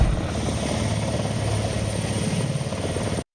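A Denel Rooivalk attack helicopter flies close by, its rotor throbbing in a fast, steady chop over a constant engine whine, loud and unbroken until it cuts off abruptly near the end.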